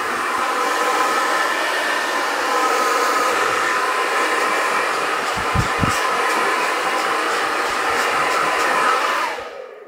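A hair dryer blows a steady, loud stream of hot air while a brush works through long hair during a big haircut. The whoosh runs evenly for about ten seconds, with a few soft knocks near the middle, then cuts off right at the end.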